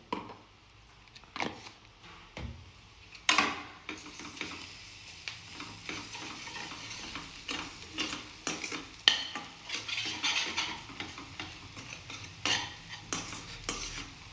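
Ginger garlic paste is worked into onions frying in a pan, with a soft sizzle under irregular scraping and clinks of the spoon against the pot, close and fairly quiet.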